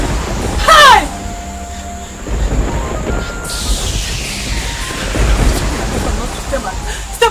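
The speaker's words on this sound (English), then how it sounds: "This thunder and lightning, what is it for?" A thunder and lightning storm rolls in a Nollywood drama, with low rumbling thunder and a sharp crackling strike, while a voice cries out briefly over it.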